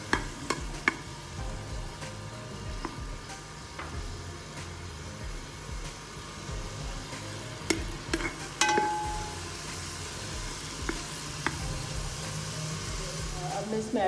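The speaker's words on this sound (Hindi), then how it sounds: "1 टेबल स्पून लहसुन अदरक का पेस्ट, 1/2 टेबल स्पून हल्का सा फ्राई करूँगी" Garlic ginger paste fries lightly in a pan for a chicken corn and vegetable soup, a faint steady sizzle with sporadic stirring clicks and scrapes, while a person talks over it.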